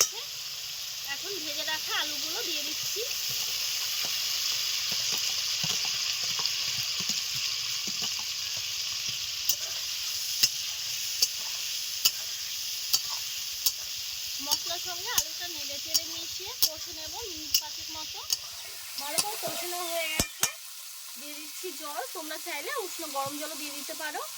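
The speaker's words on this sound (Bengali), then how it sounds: "টকবক করে ফুটতে শুরু করে দিয়েছে ঝোলটা" Katla fish curry gravy bubbling and sizzling in a pan after the spices are fried in oil, a steady frying hiss with soft pops and occasional sharp clicks, while someone talks over it.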